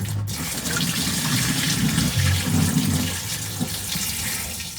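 Water rushes steadily through a caravan's black water hose, a continuous loud gushing flow with a low gurgling underlayer, close and unbroken, with no talking.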